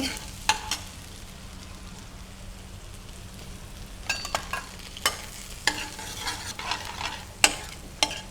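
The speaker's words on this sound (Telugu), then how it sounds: "ఇది కొంచెం వేగాక మనం గార్లిక్ వేసుకుందాం" Chopped garlic frying in a pan alongside chopped ginger, a soft steady sizzle with scattered sharp clicks and scrapes of stirring, growing busier toward the end.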